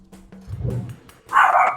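A dog gives a short bark and a higher yip, close and loud, in a brief burst after a quieter low sound.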